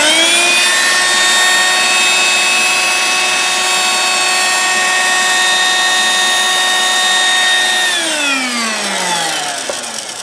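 Dirt Devil handheld cordless vacuum running, a loud steady high-pitched motor whine with strong harmonics that holds level, then drops in pitch and fades as it spins down near the end.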